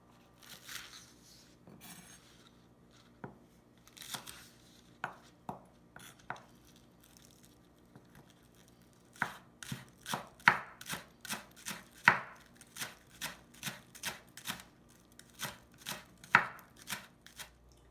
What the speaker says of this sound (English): Next is 2 pieces of scallions, and I'm going to also chop 2. Finer chop is probably better.